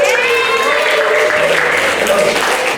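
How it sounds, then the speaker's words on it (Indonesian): Classroom applause for everyone during an ice-breaking session in a vocational design class, a steady wash of clapping lasting nearly three seconds, with voices mixed in. "Tepuk tangan dong buat semuanya."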